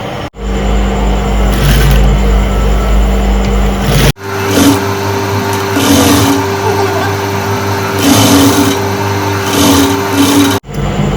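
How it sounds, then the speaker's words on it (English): Electric sewing machine stitching aso oke fabric in long whirring runs, pausing briefly between bursts, close and loud, with someone speaking over it. "let's go to the sewing machine and start sewing"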